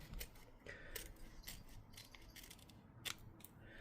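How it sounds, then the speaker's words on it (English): Several quick, crisp snips of scissors cutting open a plastic instant noodle sauce packet, close and quiet, with small rustles between the cuts. "So just with the scissors."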